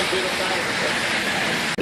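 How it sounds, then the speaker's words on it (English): A motorcycle ride, heard as a steady, loud broadband rush of engine and wind noise that holds unbroken for almost two seconds before a brief dip at the very end. "so we're going now. Going in my motorcycle"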